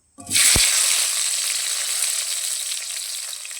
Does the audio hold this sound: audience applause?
no